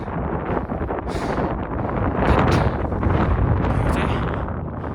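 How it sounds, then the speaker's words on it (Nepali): Strong mountain wind roars and buffets close by in heavy, rising gusts at about 4,340 meters on the Annapurna Circuit, with no talking. "लास्टै कस्तो चाहिँ हावा चलेको"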